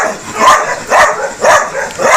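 A dog barks four times in a steady rhythm, loud and close, with no talking.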